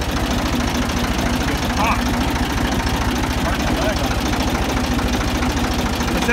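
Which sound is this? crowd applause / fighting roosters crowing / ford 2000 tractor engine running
ford 2000 tractor engine running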